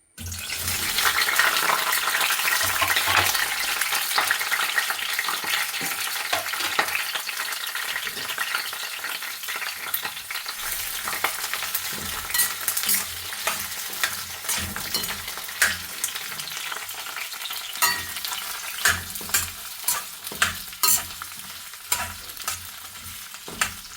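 Ginger and garlic frying in oil in a pan for capsicum gravy, a loud steady sizzle that gradually thins, with scraping stirs and clinks of a spoon growing more distinct toward the end; no talking.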